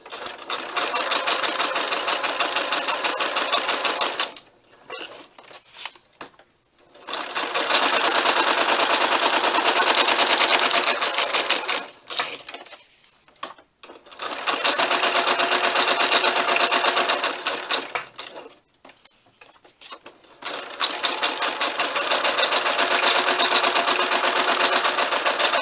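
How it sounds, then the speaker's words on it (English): A sewing machine stitches around the edge of a handmade December Daily craft page. It runs in four loud, close bursts of rapid rattling, separated by short quiet pauses, with no talking. "I'm just going to stitch around this real quick"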